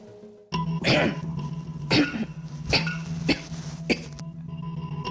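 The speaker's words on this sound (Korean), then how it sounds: "벌써 2달째 기침 소리가 멈추질 않습니다" A series of harsh coughs from a lingering post-COVID-19 cough, five or six bursts spaced about a second apart, close up over a low steady hum.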